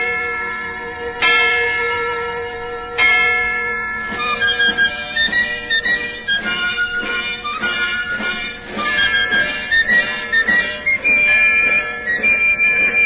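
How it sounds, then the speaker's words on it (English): An old church bell rings out with loud resonant strikes that overlap and sustain, a rich ringing layered with a wandering melodic line. "This old bell had rung out the sounds of many victories, of many wars."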